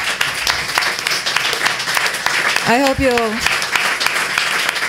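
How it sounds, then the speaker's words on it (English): Attendees at a restaurant-week salon on local food applaud themselves, steady dense clapping with a voice speaking briefly over it partway through. "Give yourself some applause."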